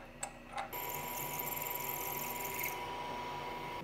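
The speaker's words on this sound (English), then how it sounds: "I'm going to use the 5mm drill now" A 5 mm drill bit bores into metal for a brake lever in a framebuilding workshop: two faint taps, then a steady, close, high whirring grind for about two seconds that carries on at a slightly lower pitch.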